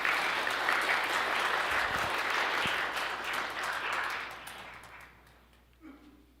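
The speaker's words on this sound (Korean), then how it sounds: "우리 박수로 사목회장님 맞이하겠습니다." Applause in a church welcomes the parish council president, a dense burst of congregational clapping that holds for a few seconds, then thins and fades away, leaving near silence with a faint voice at the end.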